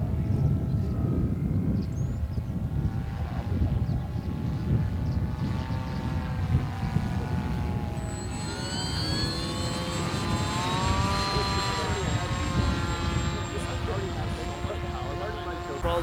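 A model airplane flies over a runway, its engine whining and shifting in pitch as it passes, with people talking nearby throughout.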